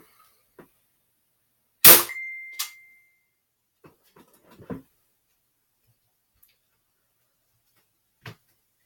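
A Daisy BB gun fires a customized wood bullet as one sharp crack with a short ringing ping, followed by a second smaller snap and a few faint knocks and clicks, all fairly quiet and with no talking.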